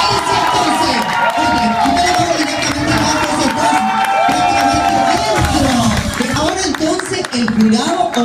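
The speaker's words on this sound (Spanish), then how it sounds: "tiene que ser fuerte el aplauso para Jessica Johnson" A studio audience at a televised casting show cheers and claps loudly, a continuous roar of shouting voices and excited whoops mixed with scattered applause, close and crowded.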